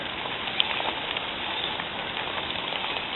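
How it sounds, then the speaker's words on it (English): Steady rain patters on surfaces and onto an exposed, non-waterproof camera outdoors, a dense close hiss with occasional sharper drop hits, no voices. "I gotta get this camera out of the rain."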